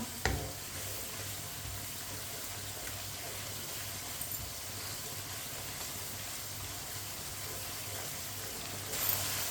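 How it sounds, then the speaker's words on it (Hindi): Fenugreek leaves and potatoes for aloo methi are sautéed over a medium flame and stirred with a spoon, making a low, continuous sizzling hiss with occasional scrapes and no voices. "अब इसे 2-3 मिनट के लिए इसी तरह चम्मच चलाते हुए भून लेंगे।"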